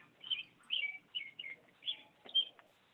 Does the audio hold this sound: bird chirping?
yes